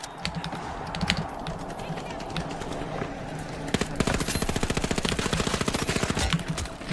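Video game gunfire, dense rapid automatic bursts that grow louder and continuous in the second half, mixed with clicking keys and a voice talking over parts of it.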